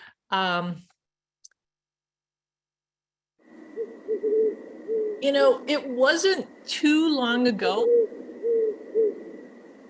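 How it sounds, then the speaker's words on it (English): Low, steady great horned owl hoots drone in the background while a person talks over them, with a brief voice at the start and a silent gap. "we were hearing the calls of the great horned owl"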